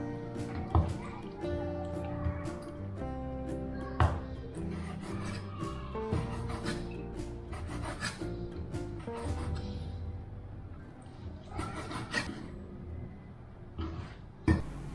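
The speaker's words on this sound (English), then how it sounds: "slice the meat into slices. Then peel them so it's easier to cut them into shreds" A knife chops steadily on a cutting board while pork is sliced and shredded, giving a busy run of close, soft thuds and scraping strokes at an uneven rhythm in a quiet kitchen.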